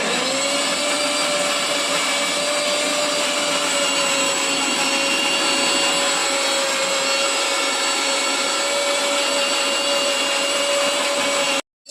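Spices whirl in an electric mixer grinder in a village home kitchen, a loud, constant motor whine running unbroken for nearly twelve seconds, then cutting off sharply.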